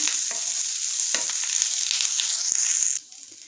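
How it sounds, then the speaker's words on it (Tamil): Grated coconut sizzles and fries close in a pan with occasional scraping stirs, steady for about three seconds before the hiss drops away abruptly. "ஒரு 1 நிமிஷம் போல் லேசாக வதக்கி விட்டுக்கோங்க"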